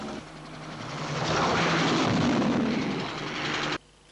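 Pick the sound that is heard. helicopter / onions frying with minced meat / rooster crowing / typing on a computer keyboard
helicopter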